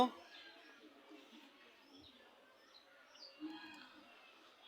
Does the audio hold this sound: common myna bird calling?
yes